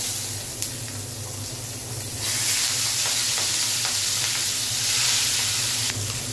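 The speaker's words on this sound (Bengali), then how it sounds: "প্রথমে আমি চিংড়ি মাছটা ভেজে নিব। তেলটা আমার গরম হয়ে গেছে" Prawns drop into hot oil in a pan and fry with a loud, steady sizzle and hiss that swells sharply after a quiet start and continues unbroken.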